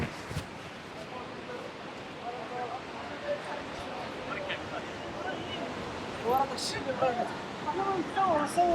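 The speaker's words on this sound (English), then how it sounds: "the wind is really strong up here" Strong wind gusting at Essaouira, Morocco: a continuous broadband rush of wind buffeting the microphone, louder in bursts toward the end, with faint distant voices and street sounds underneath.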